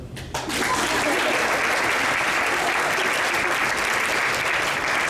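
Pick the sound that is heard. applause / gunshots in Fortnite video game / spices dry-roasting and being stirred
applause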